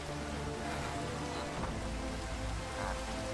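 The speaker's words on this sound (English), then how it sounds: "It's actually raining now." Steady rain in the video game Minecraft hisses as a dense, constant wash of noise with no breaks, playing quietly in the background.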